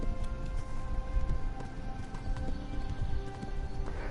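Horse hooves clip-clopping at a steady galloping rhythm in the medieval game Kingdom Come: Deliverance, rapid repeated thuds at moderate level with a faint whinny-like tone mixed in.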